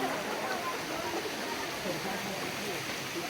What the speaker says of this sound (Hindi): ये ऊपर पहाड़ों का पानी है जो ऊपर से आ रहा है सारा, और यहाँ पर पूल बना हुआ है उसका।